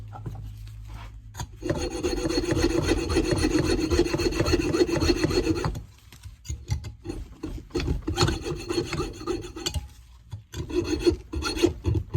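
A hand file rasping cuts into a key for an old lock: close, rhythmic scraping strokes, a long steady run of rapid back-and-forth filing, then shorter irregular bursts separated by brief pauses, with no talking.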